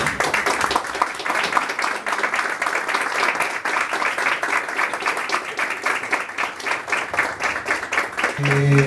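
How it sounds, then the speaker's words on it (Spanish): An audience at a book presentation in a bookshop breaks into steady, sustained applause, a dense and even crowd clapping that continues throughout without pause. "Un aplauso, por favor."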